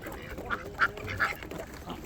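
Ducks quacking on a homestead among chickens and guinea fowl, a few short calls spaced across a couple of seconds at moderate distance over light background noise.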